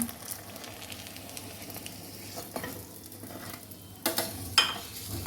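Water lily fritters frying in hot oil give a steady low sizzle with soft stirring and a few sharper scrapes and clinks near the end, heard close up with no one talking.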